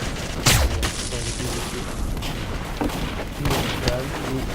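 Shotgun blasts and heavy gunfire from the online shooter game Team Fortress 2, with booming shots and a constant battle din, loud and dense. Someone talks over the action.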